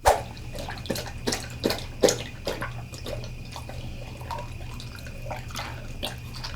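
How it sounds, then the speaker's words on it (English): Quick, wet lapping splashes of a dog drinking water repeat in an irregular rhythm, loudest at first, then softening into fainter licks over a low steady hum. "Listen and watch what happens when she drinks water."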